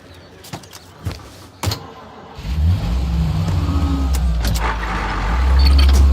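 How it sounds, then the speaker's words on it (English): A car engine in Mafia Definitive Edition starts up after a few clicks and thumps, then revs and drives with a loud, steady mid-range drone that swells toward the end. "Good today, Tommy, with the driving"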